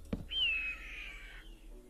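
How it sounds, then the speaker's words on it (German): A bird in the Minecraft game RLCraft gives a single drawn-out, high squawking call after a short knock, fairly faint against a quiet background. "Welcher Vogel meckert schon wieder?"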